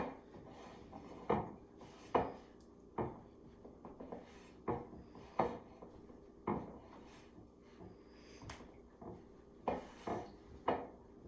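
Dough ingredients for Nutella sticky buns being mixed by hand in a bowl, with a steady series of soft, quiet thumps and scrapes repeating roughly every second, close up and otherwise quiet.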